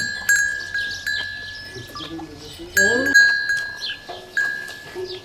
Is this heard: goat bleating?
yes